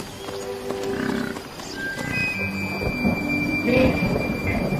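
Thunder rumbles over wild lion country as a storm arrives, deep rolling booms mixed with the hiss of rain and faint bird calls, with no voices.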